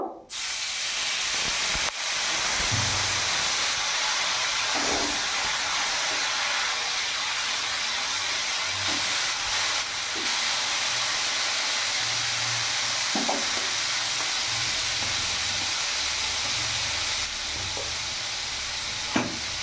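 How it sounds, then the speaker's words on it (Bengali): A little water hits a hot pan of chili powder and cumin powder for a potato paneer dish, setting off a loud, sustained steamy hiss and sizzle with occasional soft stirring knocks. "সামান্য একটু জল অ্যাড করে দেবো"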